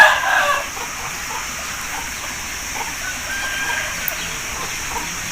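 An aseel rooster with a long tail gives a brief crow right at the start, then the rest fades into a steady hiss of background noise.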